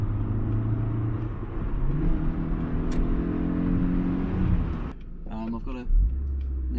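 Steady engine drone and road rumble from inside a 1980s Toyota MR2 Mk1a sports car on the move, with shifts in pitch as it accelerates and a brief louder thump near the end.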